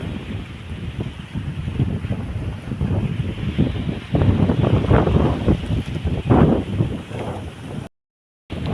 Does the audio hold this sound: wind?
yes